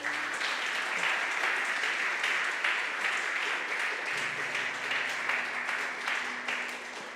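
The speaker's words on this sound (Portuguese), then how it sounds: "Você pode aplaudir ao Senhor?" A church congregation applauds the Lord, a sustained roomful of clapping at moderate volume, with a low steady hum entering partway through and the applause tapering slightly at the end.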